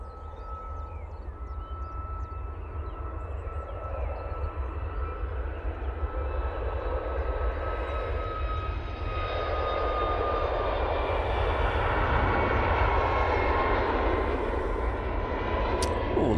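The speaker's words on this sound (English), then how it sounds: "After Paphos, we're going to go with this 737 MAX 8." Boeing 737 MAX 8 jet at Manchester Airport in low visibility, a steady rising engine roar with a thin whining tone, heard from a distance and growing slightly louder over the span, no talking.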